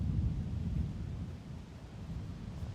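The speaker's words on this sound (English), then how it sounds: "Okay, the rain's still going." Steady rain falls outdoors during a disc golf round at the New Zealand National Championships, a dense, even low rush with windy rumble throughout and no voices.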